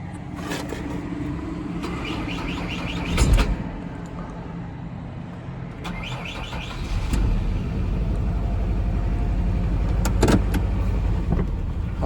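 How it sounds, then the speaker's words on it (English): High-mileage 2007 Mazda with a bad misfire, idling close by with an uneven, stumbling engine note, a couple of sharp clunks and a rise in engine noise partway through. "Oh yeah, it's got a bad misfire to it."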